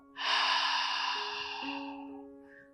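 A single long, breathy exhale through the mouth during a pranayama breathing exercise for high blood pressure, starting suddenly and fading gradually over about two seconds, close and alone.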